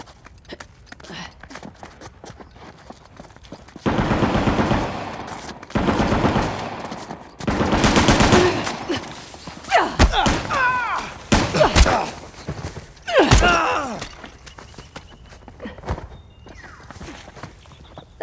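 Gunfire in the game Uncharted: The Lost Legacy comes as loud, dense bursts of shots in several waves, separated by quieter stretches, with voices shouting between the volleys.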